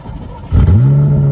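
A 2024 Corvette Z06's 5.5-liter naturally aspirated V8 roars as it revs up, the low rumble rising then holding steady at a high, sustained pitch.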